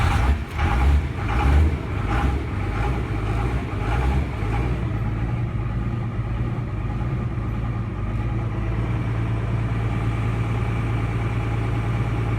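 A truck engine idles low and steady after a cold start, with a few rough, louder pulses over the first seconds before it settles into a constant low rumble with no talking.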